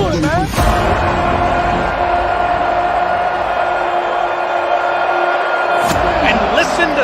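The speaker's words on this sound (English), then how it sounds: "And listen to Sanford Stadium. Well, the crowd, they answered the challenge." A large crowd roars steadily at Sanford Stadium, a dense, loud wall of cheering that holds for the whole clip, with a few sharp bangs near the start and end.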